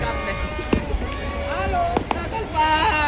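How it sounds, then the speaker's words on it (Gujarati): Firecrackers pop a few times in sharp, scattered bursts while people talk nearby. "ફટાકડા"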